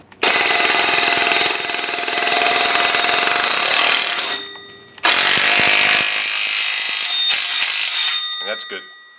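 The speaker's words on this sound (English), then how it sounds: "So I'm going to go ahead and tighten these down now. That's a 15mm nut on there." Power tool tightening 15mm nuts on the exhaust clamps of a Trans Am WS6 during a chambered exhaust install: a loud, harsh mechanical rattle runs for about four seconds, breaks briefly, then resumes with a few short final bursts.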